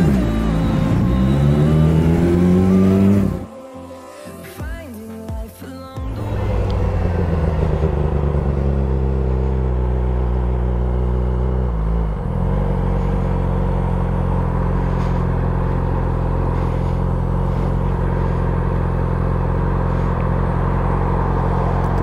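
Cars revving and racing past, a loud engine roar rising in pitch, a brief dip, then a sustained heavy rumble of motors continuing steadily to the end.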